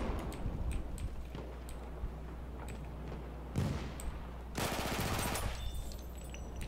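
Gunfire in a video game: sparse, fairly faint shots over a steady background hum, then a sharp blast and a dense, louder burst of rapid fire.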